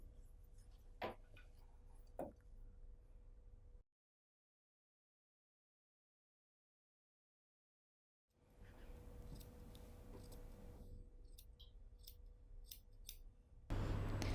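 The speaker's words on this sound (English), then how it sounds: "Let's cut the extra piece of the pocket back before we start stitching it." Scissors snip the fabric pocket back of a Chanel-style jacket, with a few crisp cuts, then a stretch of silence, then more close cutting and handling noise.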